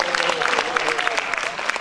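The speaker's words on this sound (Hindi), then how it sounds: "तालियों से पता लग रहा है कि आपने वाक्य अच्छा बनाया" An audience applauds at a live Urdu drama stage performance, a scattered burst of clapping heard with a voice talking over it.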